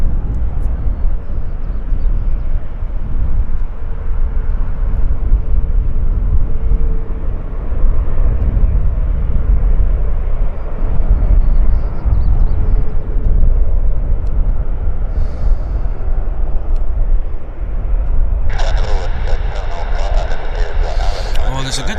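Airliner at Vancouver International Airport YVR taxiing onto the active runway, a steady loud jet engine rumble throughout with a brighter whine rising near the end, people talking over it at times.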